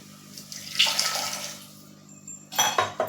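Water is poured into a pressure cooker for fasting-style moraiya khichdi, a short splashing gush at close range, fading and then returning in a second brief burst with light metal clinks.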